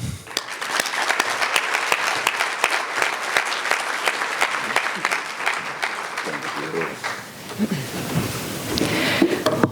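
An audience at a maternal health accelerator kickoff event claps steadily to welcome Mayor Parker, sustained dense applause from a crowd with voices faintly audible near the end.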